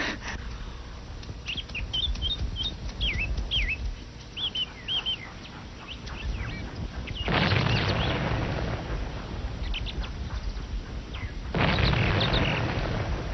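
Two deep, rumbling cannon booms sound from a distance several seconds apart, with birds chirping in the background between them.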